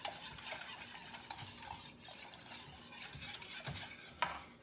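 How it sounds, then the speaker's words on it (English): Mushroom latte powder whisked into liquid in a cup, a quick light rattling stir with small clinks of the whisk against the sides, close and fairly quiet with no voices. "give that a little whisk"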